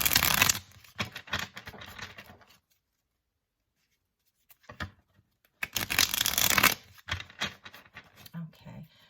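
Rider-Waite tarot cards are shuffled in two bursts of rapid riffling and flicking, close and fairly quiet, separated by a brief silence, with a few soft handling taps after.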